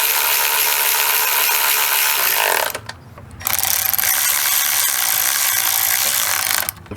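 A ratchet clicks steadily as it snugs down the transmission pan bolts on a Ford F150's 6R80 automatic, a close, continuous pawl chatter that pauses briefly midway before resuming for another long run.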